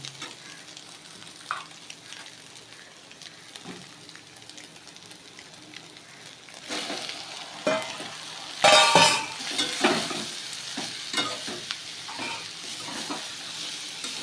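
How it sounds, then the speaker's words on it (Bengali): Pasta is stirred into fried vegetables and egg in a hot pan: a steady close sizzle with scraping stirs, growing louder and busier halfway through, with no voices. "সবজি আর ডিমটা আমার ভাজা হয়ে এসেছে। এর মধ্যে এবার আমি পাস্তাটা দিয়ে দেব।"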